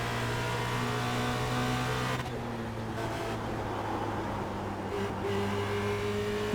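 A Formula Renault race car in the iRacing sim at Spa-Francorchamps drones with a steady, buzzing engine note that shifts pitch twice, as if changing gear, heard alone in a pack of cars.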